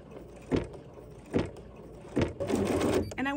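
A Bernina 790 PRO embroidery machine stitches a morphed quilt motif, giving three spaced mechanical bursts and then a longer steady run of needle action, fairly close and with no talk.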